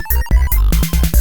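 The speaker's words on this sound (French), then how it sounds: "j'ai une sonnerie de portable à mon effigie" A mobile phone ringtone plays a loud, close melodic electronic tune of repeating bright tones in quick pulses, with no voices.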